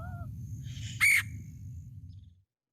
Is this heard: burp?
no